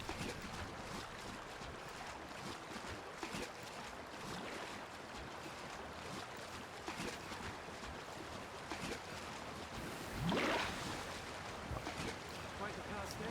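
Steady rushing roar of a waterfall in the fantasy game Dragon's Dogma Dark Arisen, a continuous wash like wind and surf with a brief swell near the end, moderately faint.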